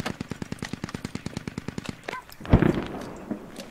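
Machine gun fire in the military shooter Squad comes as a fast, even burst of about twenty shots over two seconds, followed by a heavy thump and lingering rumble.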